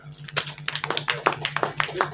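Audience clapping at an Urdu poetry gathering (mushaira) in Chakwal as a poet is welcomed, a run of scattered, uneven hand claps with a steady hum underneath.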